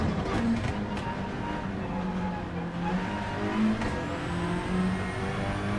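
Gr4 racing car engines in the video game Gran Turismo on the Trial Mountain circuit drone continuously with shifting revs, a steady mid-level hum with no pauses throughout.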